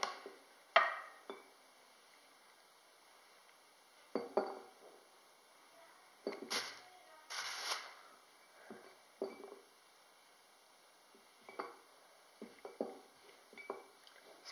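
Quiet, intermittent short scrapes and taps of a knife cutting a soft block of soap base into cubes on a surface, with small clinks between cuts.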